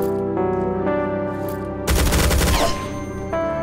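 Chaingunner enemies firing in Doom 2 with the Project Brutality mod: a loud, rapid machine-gun burst lasting under a second, set against droning game music and echoing slightly.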